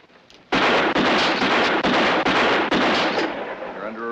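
In a western movie scene, a rapid volley of loud, close gunshots rings out one after another for several seconds, each blast merging into the next before the echo fades.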